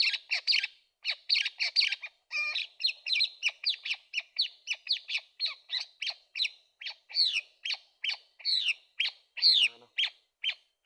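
Birds calling from the trees, with a rapid series of loud, close, squawking chirps repeating in quick succession and one or two slightly different notes near the end.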